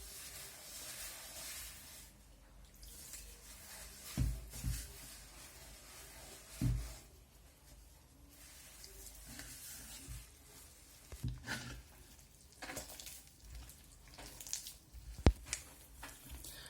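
Batbout dough being mixed with water by hand in a bowl, quiet irregular wet squishing and slapping with occasional soft thumps, faint and close.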